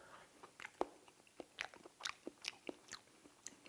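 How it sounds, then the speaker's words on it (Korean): Close, crisp bites and wet chewing on a piece of fresh raw salmon tail, about a dozen short crunchy smacks in an uneven rhythm, quiet and with no talking. "제가 그 연어 손질하다가 남는 꽁지 마지막 부분을 제가 한번 맛을 한번 볼게요"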